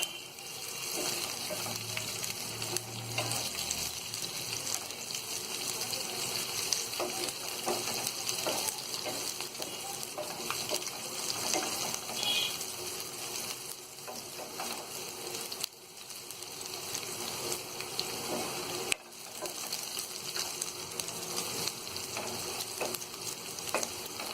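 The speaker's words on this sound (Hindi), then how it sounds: "अब इसमें हम ये कटी हुई हरी मिर्च डाल देंगे और इसे हम थोड़ी देर अच्छी तरह फ्राई कर लेंगे" Chopped green chilies and onions frying in a pan for crispy bhindi fry, a continuous close hiss and crackle of hot oil running throughout with occasional stirring, no one talking.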